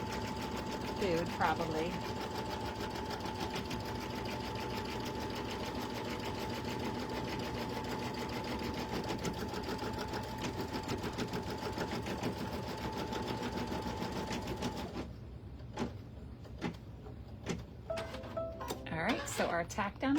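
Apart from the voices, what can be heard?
embroidery machine stitching the tack-down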